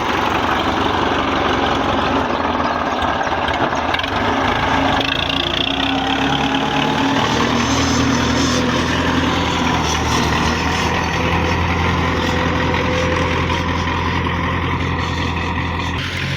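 A 1997 Belarus MTZ 50 tractor engine idles loudly and steadily up close, a continuous diesel rumble with no break and no talking.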